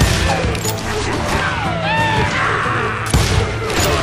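Gunfire from the Western shooter video game Call of Juarez Gunslinger rings out amid a dense, busy battle mix with music and shouting voices, one sharp loud report standing out near the end.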